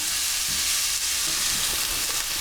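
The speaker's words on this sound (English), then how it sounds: "just 2 or 3 minutes frying this onion over a medium heat until it just starts to soften." A pan of onion frying over medium heat sizzles steadily with a loud, continuous crackling hiss, close by and unbroken.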